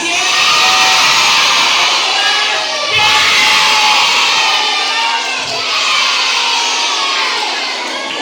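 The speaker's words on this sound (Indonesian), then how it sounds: "Berikan tepuk tangan lagi yang luar biasa." Crowd of schoolchildren at a Ramadan school gathering cheering and shouting loudly in sustained waves, with clapping woven through the roar.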